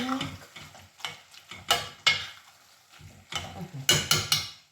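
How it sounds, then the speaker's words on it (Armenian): Food stirred in a pot while stuffed peppers with tomatoes are cooked, a series of irregular scraping and clinking strokes of a utensil against the pot, some sharp and close, with soft sizzling between. "խառնում ենք"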